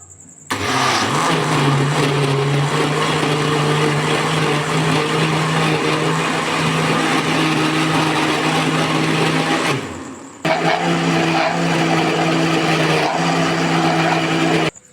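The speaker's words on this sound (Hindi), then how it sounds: "अब मैं मशीन को चलाने लगी हूँ" A blender runs loud and continuous while blending peach sharbat, with a steady motor whine that briefly dips around ten seconds before resuming at full power until the end.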